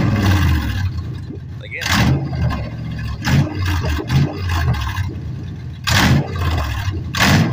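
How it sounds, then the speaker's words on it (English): A car revving loudly and rough after its catalytic converter was stolen, the exhaust roaring in repeated bursts with a person talking over and between the revs. "This is what happens when a piece of, you know what, steals your catalytic converter."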